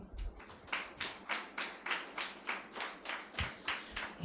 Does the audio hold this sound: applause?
yes